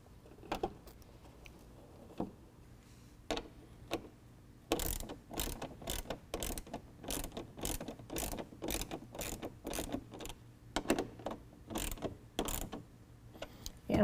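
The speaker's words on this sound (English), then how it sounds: "We'll be tightening that down with a 7mm." A ratchet with a 7mm socket clicks in rapid repeated strokes, tightening trim screws while installing aftermarket headlights on a 2018 Ford F-150, close and steady with faint background hum.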